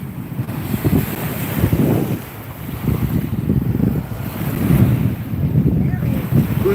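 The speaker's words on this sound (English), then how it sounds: "See the water, the waves." Ocean waves at night wash and surge in low rolling swells, heavily buffeted by wind noise on the microphone, loud and continuous with slow rises and falls.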